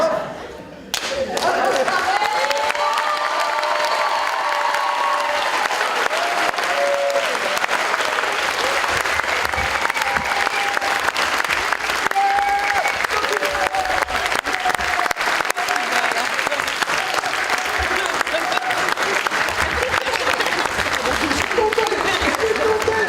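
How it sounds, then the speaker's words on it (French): Sustained audience applause at a workshop presentation on youth precarity, dense, steady clapping from a crowd that carries on for over twenty seconds, with a few voices mixed in. "On peut vraiment encore les applaudir parce que c'était vraiment extra."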